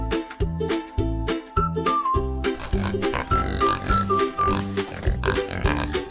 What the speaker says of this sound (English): That's a funny sound. It's a pig.